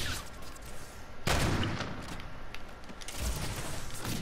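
Gunfire in Call of Duty during mid-air trick shots, a steady crackle of game noise broken by a loud sudden shot burst around midway and another heavy bang near the end, fairly close.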